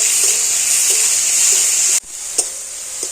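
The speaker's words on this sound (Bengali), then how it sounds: "দিয়ে দিলাম তো টমেটোটা একটুখানি ভেজে নেব" Chopped tomatoes and onions fry in a pan with a loud, steady sizzle. The hiss drops off abruptly, leaving softer frying with a few light clinks.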